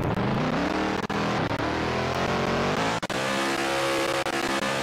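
A car in the Roblox video game drives and revs with a loud, continuous engine drone whose pitch rises and falls, with brief dips in the sound, and no talking.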